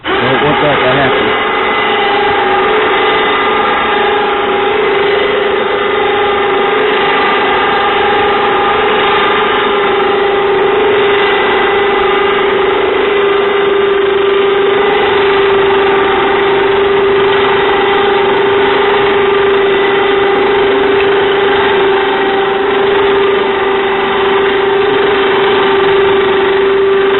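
Harbor Freight 2,000 pound winch mounted on a Polaris RZR letting down, with the engine idling steadily throughout; a continuous droning hum with a strong tonal whine, close and loud, with a voice talking briefly at the start.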